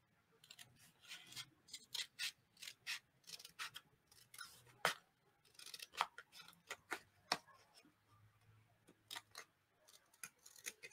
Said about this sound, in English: And then I'm just going to cut around until I get that rectangle cut out.